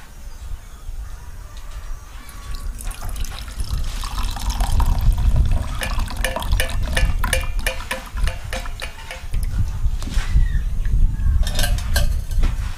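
Thumbai herbal milk drink, boiled down with crushed cardamom, being strained into a vessel, with a trickling, splashing pour and clinks of metal utensils throughout, moderately loud and with no talking.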